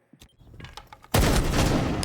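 A gunshot from a scoped rifle in a shooter video game, a sudden loud blast about halfway through that rolls on in a dense, sustained roar after some quieter clicks and thumps.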